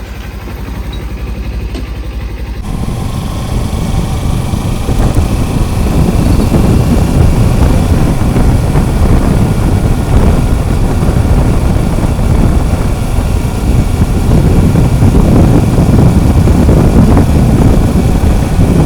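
A Kawasaki Ninja motorcycle engine starts up and runs with a steady, loud low rumble, holding an even idle-like drone for most of the stretch with no talk.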